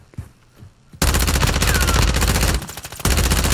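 Rapid automatic gunfire in Call of Duty erupts loud and dense after a second of quiet, hammering on with a brief dip before resuming at full intensity.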